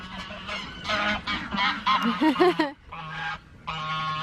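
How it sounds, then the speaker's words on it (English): Several geese honk loudly and close by, a run of harsh, nasal calls in quick succession with brief pauses between bursts. "Noisy geese."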